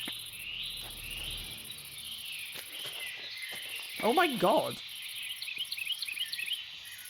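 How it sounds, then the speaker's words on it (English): Loud, steady cricket chirping fills the background throughout, with a dense high insect drone, while a person speaks briefly over it in a Minecraft hardcore world setting. "These loud-ass crickets, by the way."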